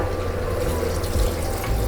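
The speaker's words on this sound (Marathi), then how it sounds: "आता आपण यामध्ये पाणी घालूया" Water pours steadily into a pot of mixed pav bhaji vegetables, a full, continuous splashing gush heard close and alone.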